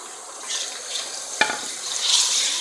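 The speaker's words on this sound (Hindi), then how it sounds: "हम मैं ये डाल दूँगी टमाटर" Tomatoes tipped into a pan of onions frying until pink, giving a brief sharp clatter and splash over a steady soft sizzle that swells slightly afterward, with no talk.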